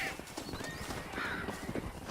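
Horse hooves clip-clop steadily along with a short whinny from a horse in Red Dead Redemption, set against a busy, noisy game background with no talking.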